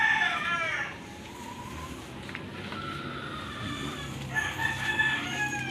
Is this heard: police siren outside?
no